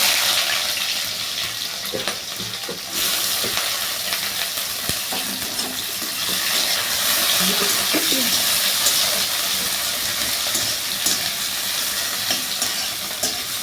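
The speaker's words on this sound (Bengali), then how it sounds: "এর মধ্যে আমি দিয়ে দেব পেঁয়াজ কুচি।" Chopped onion frying in a hot pan, a loud, continuous sizzling hiss that swells after the onion goes in, with occasional stirring clatter throughout.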